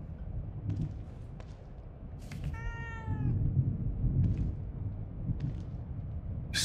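A cat meows once in The Evil Within 2, a clear, drawn-out cry standing out from a low, murky game ambience with soft shuffling and faint clicks.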